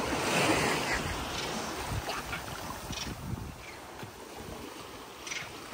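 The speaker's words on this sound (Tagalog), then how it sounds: "The waves is going to catch you." Waves wash continuously near a beach in Sulu, a soft broadband surf hiss with gentle swells and faint wind, fairly quiet and without talk.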